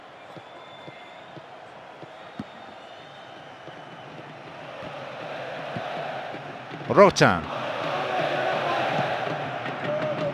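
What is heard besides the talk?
crowd noise in the football video game PES 2009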